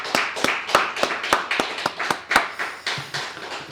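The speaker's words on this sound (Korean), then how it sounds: "우리 모두를 축복하면서 또 하나님께 감사하면서 박수 한번 하겠습니다" Congregation at a late-night Friday prayer meeting clapping in a steady, even rhythm, about a dozen distinct claps in a row, close and clear with little else around them.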